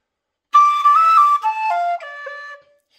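A whistle plays a short phrase from a tune, clear and close, with several sustained notes that step downward over about two seconds, unaccompanied.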